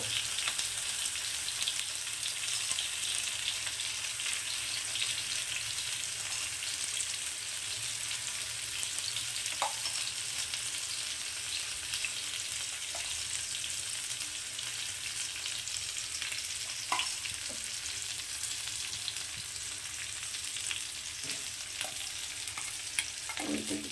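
Beaten egg frying over eggplant slices in a pan, a long, steady, rain-like sizzle at moderate level with occasional soft clicks from a spatula.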